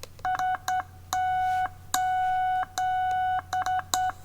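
A Morse code practice oscillator beeps a steady electronic tone in short and long bursts, SOS: three quick, three long, three quick, repeated, clear and close with no talking.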